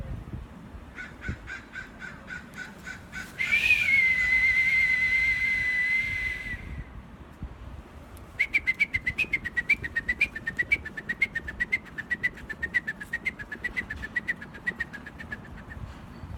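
Crows caw in two long bursts of rapid, repeated harsh calls, with a steady whistling tone in between, over low outdoor rumble.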